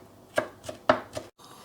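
A knife chops through onions on a board in four separate, uneven strokes, close and crisp, with a short silent gap near the end.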